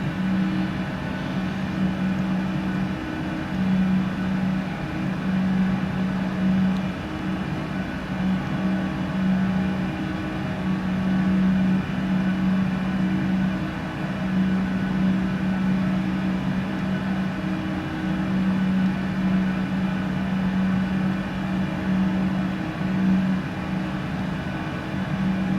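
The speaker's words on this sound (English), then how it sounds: "Engines do indeed sound nice. These are RB211 Rolls-Royce engines on these planes." Rolls-Royce RB211 jet engines of a PMDG 747-400 in a flight simulator, a continuous droning whine with a steady low hum, pulsing gently, no talk.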